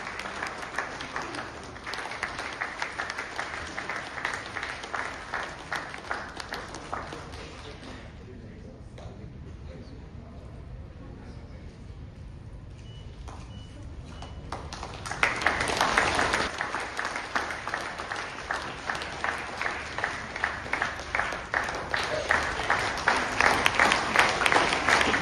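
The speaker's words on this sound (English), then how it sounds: "let's hear a huge round of applause, ladies and gentlemen" An audience applauds the compound archery team at a sports ceremony, with sustained clapping that dips quieter midway and then swells louder again, while a voice speaks over parts of it.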